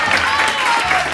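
A brief burst of audience clapping follows a rubber band magic trick, short and fairly loud, with a voice speaking over it.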